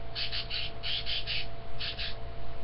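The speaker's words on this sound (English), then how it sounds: "If that bird does not shut up, I swear, Lorelai." A crow caws repeatedly outdoors, about eight harsh calls in uneven bursts, fairly close and loud over a steady low background hum.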